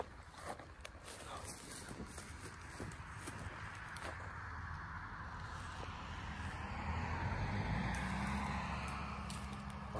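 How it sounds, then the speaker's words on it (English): A car passes at night outdoors, its steady broadband road and engine rumble swelling gradually toward the end of the pass under faint breezy microphone noise, with no talk. "That car go by."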